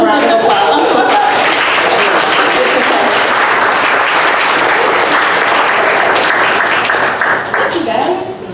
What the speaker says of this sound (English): we'll stand up and give Jin Ya a round of applause